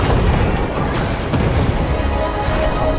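Crystals detonating during a Fortnite Chapter 3 Season 2 live event, a loud, dense rumble of blasts with scattered bursts running throughout, heavy low-end booms layered under the game's sound.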